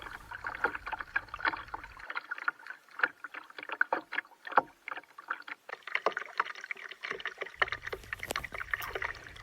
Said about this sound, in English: I hope you've kind of enjoyed this little boat ride with me in my little kayak.